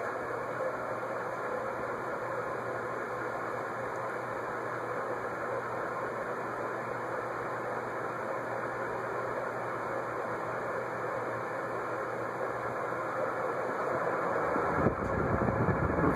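Airmaster Autumaire ceiling fan running on high in a wood-panelled room, a steady broadband whoosh of moving air with a low motor hum, unchanging throughout and rising slightly near the end.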